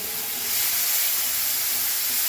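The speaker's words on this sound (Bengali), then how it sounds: "এবার আমি ভালো করে একটু কষিয়ে নেব" A fish curry's spice paste of ground coriander leaves, green chilli and garlic, with sugar and salt, sautés in a pan, giving a steady, loud sizzling hiss with no pauses and no voices.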